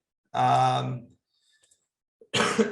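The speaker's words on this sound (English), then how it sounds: "Excuse me for the cough." A single throaty cough, then a brief pause before another short, rough cough or throat-clearing sound, close and fairly loud.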